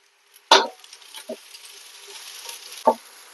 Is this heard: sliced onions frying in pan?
yes